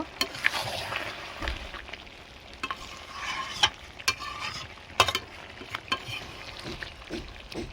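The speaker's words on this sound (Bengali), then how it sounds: "কিছুক্ষণ পরে ঢাকনা খুলে নিচ্ছি খুলে দেখে নেব নাড়িয়ে দেব" Chicken kasha with potatoes being stirred in a pot after the lid comes off, home-style village Bengali cooking; soft scraping strokes and a gentle sizzle, close but fairly quiet, with a few sharper knocks of utensil on pot.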